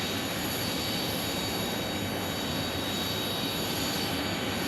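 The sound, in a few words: CRJ jet landing on a runway at Phoenix Sky Harbor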